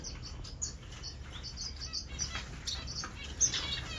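Thin, high chirps from crested society finch nestlings with pin feathers come in short repeated bursts, fairly faint and close, over a soft background hum.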